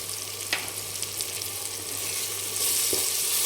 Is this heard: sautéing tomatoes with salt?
yes